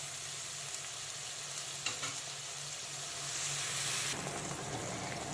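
Onion paste fries in a pan while being stirred until lightly browned, a steady soft sizzling hiss with occasional scraping strokes, swelling louder near the end; nobody speaks.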